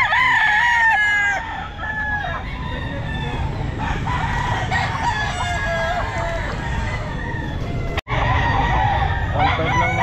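Kelso gamefowl roosters at a crowded Sunday pet market crow and cluck repeatedly over a busy background murmur, several birds overlapping near and far, with a brief sharp break midway.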